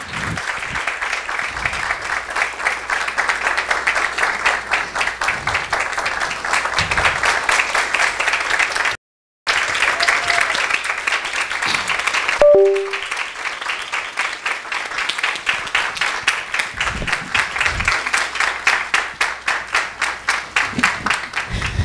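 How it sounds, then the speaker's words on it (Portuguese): Sustained applause from a theatre audience after a play, dense steady clapping lasting throughout with one brief cut, no talk over it. "uma salva de palmas"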